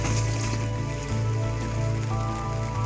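Rain falls steadily on a creek-side forest, a dense continuous patter close by with a low hum running underneath and no voices.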